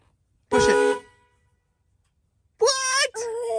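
A truck horn honks twice: one harmonic blast of about half a second, then after a pause a longer two-part honk, loud and close, with no talk over it.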